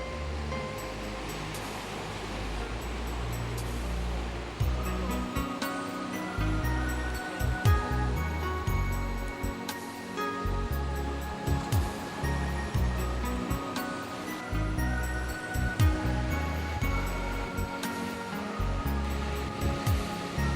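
Surf at John Smith's Beach in Bermuda, a continuous broad roar of breaking waves with repeated swells and washes over about twenty seconds, steady and fairly loud.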